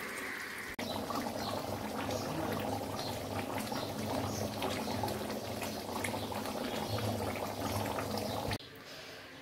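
Meat curry simmering after a small splash of water is added, a steady close bubbling and sizzling that holds evenly for most of the stretch, then cuts off abruptly near the end.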